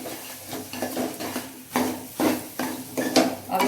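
Khoya being stirred into browned, roasted semolina in a pan for suji gujiya, with repeated scraping and clinking of a spoon against metal in irregular bursts, close and fairly loud, no talking.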